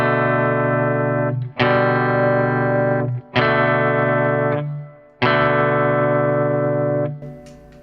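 Chorus rhythm part of a song played on a distorted, effects-laden electric guitar: four sustained strummed chords with short gaps between them, loud and close, with no voices.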